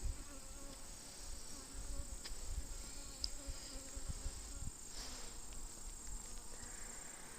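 Honey bees hum from an opened hive, a faint, steady, close-up buzz with a few soft knocks and rustles from handling beneath it.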